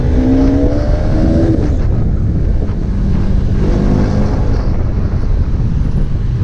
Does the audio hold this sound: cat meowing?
no